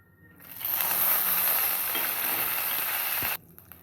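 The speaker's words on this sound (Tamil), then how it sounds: "வரமிளகா இப்போ நல்லா வதங்கிருச்சு இப்போ கருவேப்பிலை போட்டுக்கலாம்" Dried red chillies and curry leaves sizzle loudly in hot oil in a pan, a steady close frying hiss that starts after half a second and cuts off abruptly near the end.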